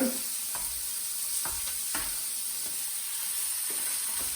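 Sweet and sour chicken pieces with cucumber fry in a hot pan, a continuous bright sizzle with a handful of scraping stirs spaced about half a second apart, close up and without voices.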